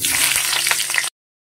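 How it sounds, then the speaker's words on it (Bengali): Potatoes frying in hot oil in a wok give a steady, loud hiss and crackle that runs for about a second and then cuts off abruptly. "প্রথমে কড়াই তেল দিয়ে আলুটা ভেজে নেব।"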